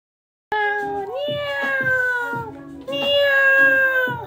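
A cat on Ishigaki Island meows close up in long, drawn-out, wavering calls, one after another, with a brief pause before a final louder meow.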